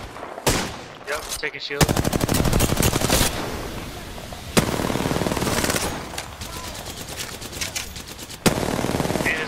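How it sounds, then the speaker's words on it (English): Automatic weapon fire in Apex Legends, including an R99 submachine gun shooting from a tower, comes as loud sustained bursts in three long volleys with short gaps, while a player talks briefly over it. "They're shooting from the tower."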